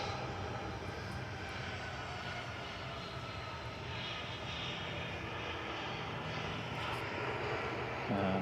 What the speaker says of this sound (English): The Aer Lingus that just arrived in the background